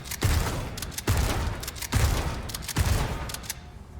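Rapid gunfire in the Resident Evil 4 remake, four loud shots at a steady quick rhythm, each followed by a clattering mechanical rack, with no talking.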